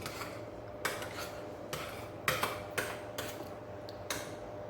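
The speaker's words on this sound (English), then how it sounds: "You have to mix the pepper and the salt, egg, mayonnaise, all up together" Egg, mayonnaise, salt and pepper being mixed together in a bowl, giving a series of sharp utensil clinks and scrapes, roughly one every half second to second, fairly close, with no talk.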